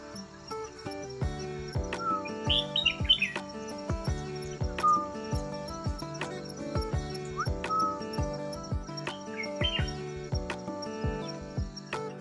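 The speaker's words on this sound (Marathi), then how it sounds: "आजूबाजूकना मस्त पक्ष्यांच्या किलबिलाटाचे आवाज येतात" Short bird chirps and twitters ring out intermittently at dawn in a village, over a background of soft music with regular percussive beats.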